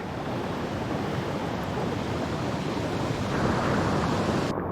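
Water rushes steadily at a small swimming hole below a waterfall on a forest hike, a broad constant wash that swells slightly near the end, with no talk.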